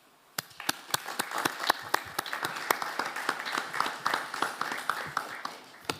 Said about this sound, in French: Et je voudrais t'applaudir.